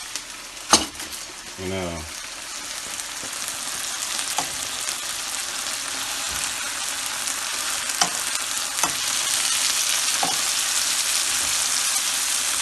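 Fresh mushrooms cooking in a pan, a steady, close sizzle and frying hiss that grows slightly louder, broken by occasional utensil taps and stirring, with someone speaking briefly near the start.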